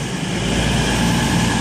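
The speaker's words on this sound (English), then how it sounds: "We've got the cross-country train coming in now" A cross-country passenger train arriving at Tiverton Parkway station rumbles with a steady, heavy roar of wheels and engine, loud and continuous throughout.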